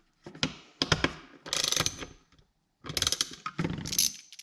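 Small metal screw being worked loose on a Harley speedometer with a hand tool, heard as close, quiet mechanical clicking and ratcheting scrapes in two short bursts separated by a pause.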